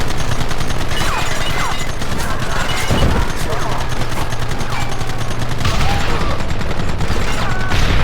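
Red Dead Redemption gunfire, with a dense barrage of rapid shots and machine-gun-like bursts running continuously and loud through the whole stretch, mixed with game effects and voices.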